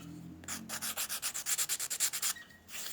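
Rapid back-and-forth rasping of sandpaper on glued wooden frames of a San Felipe model ship hull, about a dozen even strokes in steady rhythm, close and fairly loud, with no talking.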